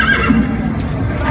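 A horse neighs in the Metal Gear Solid V: The Phantom Pain video game, D-Horse's whinny sounding fairly close and clear over steady game background noise.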